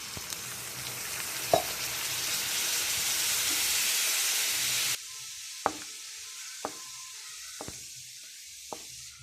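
Jaggery and about a quarter tumbler of water heating in a pan into syrup for peanut balls, a steady close sizzle and hiss that cuts out midway, followed by a few sharp spoon clinks against the pan.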